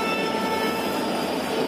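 A Devagiri Express hauled by a WDP4 diesel locomotive rumbles loudly and steadily with a sustained tonal hum, a short continuous burst that cuts off abruptly, during monsoon rain.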